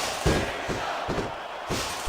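Capacity arena crowd cheering in the wrestling video game SmackDown vs Raw 2006, a steady roar from a large audience with several louder surges and thumps rising through it.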